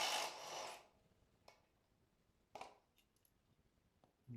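A 14 mm bolt on a Suzuki DR650 foot peg bracket is loosened with a tool, likely a power driver: a loud whirring burst at the start, then two short mechanical clicks and a few faint ticks in near-quiet.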